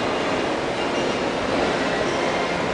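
An Athens metro train runs at Monastiraki station, a loud continuous rumble and roar of the cars with faint wheel squeal, heard steadily throughout with no voices.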